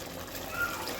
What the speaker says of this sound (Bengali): তো আরেকটুখানি আমি জল দেবো